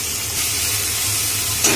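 Onion, tomato and ginger-garlic-chili paste masala sautéing in a hot pan, with a steady loud sizzle and hiss throughout and a brief stir near the end.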